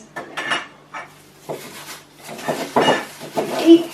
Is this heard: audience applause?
no